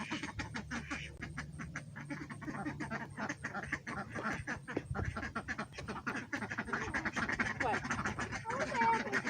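Ducks on a homestead quack continuously in a busy, overlapping flock, close and fairly loud, while people talk over the noise.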